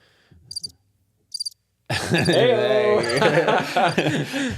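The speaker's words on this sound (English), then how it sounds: "where's our crickets? Do we have crickets?" Two short bursts of high cricket chirps sound alone near the start, then loud talking and laughter take over for the rest.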